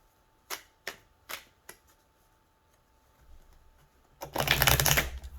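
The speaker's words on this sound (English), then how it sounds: "let's go ahead and pull some additional cards here from the Spirit Guide Oracle" Spirit Guide Oracle cards being handled, with a few sharp separate card snaps and taps followed by a dense, close riffling shuffle that rises near the end.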